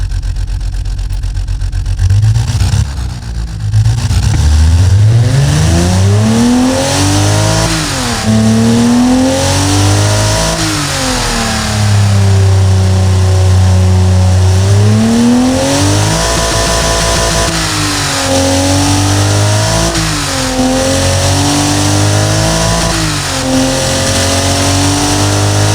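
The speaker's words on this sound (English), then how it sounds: "because they want to hear the engine" Simulated Toyota 3FE inline-six with individual throttle bodies and open intakes in the Automation game, revving repeatedly: loud, close engine note climbing and falling through several sweeps, holding high briefly, then settling back between blips, with no voices.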